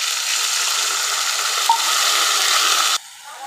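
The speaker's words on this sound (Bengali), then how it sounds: "দিয়ে দিচ্ছি আদা রসুনের বাটা।" Ginger garlic paste sizzling in hot oil with frying onions while cooking a mutton curry, a steady loud close hiss that cuts off sharply near the end, leaving faint quieter frying.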